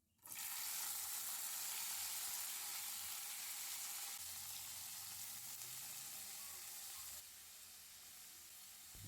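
Cumin seeds sizzle steadily in hot oil for a Maggi-style dish with onion, tomato and green chilli, a dense, even frying hiss starting abruptly and easing slightly partway through, with no talking.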